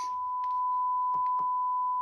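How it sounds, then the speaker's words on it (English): A steady, piercing electronic beep from a TV channel shutdown holds one pitch without a break, with faint clicks and rustles underneath. "It's just horrible, that beeping sound."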